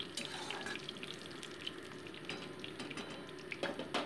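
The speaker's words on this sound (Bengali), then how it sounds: "শুকনো লঙ্কাগুলোকে আমি ভালো মতো ভেজে নিচ্ছি।" Dried red chillies frying in oil and ghee in a wok, a soft steady sizzle with faint crackles and a few stirring clinks, heard close and alone.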